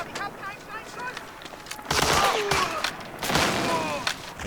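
Grenade blast in Medal of Honor: Allied Assault on the Omaha Beach level, a loud broadband burst erupting midway, followed by a second heavy blast and gunfire-like rumble, with someone talking over the game sounds.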